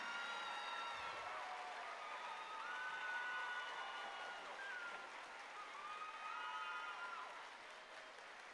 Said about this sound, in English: acknowledge them with your thunderous, thunderous applause that you have been saving.